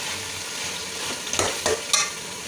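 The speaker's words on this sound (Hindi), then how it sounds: "चिकन जो है वो हमारी भून गई है तकरीबन, तो थोड़ी देर तक के लिए हम और भूनेंगे।" Chicken frying in a pan for a green chicken dish, a steady close sizzle with a few brief stirring scrapes near the end.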